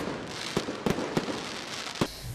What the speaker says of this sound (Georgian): საქართველოს დამოუკიდებლობის დღისადმი მიძღვნილი დღე საზეიმო ფეიერვერკით დასრულდა.